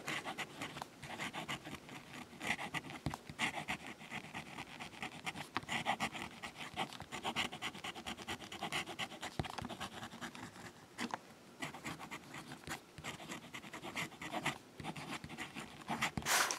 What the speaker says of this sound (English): the nib, it's scratching, very dry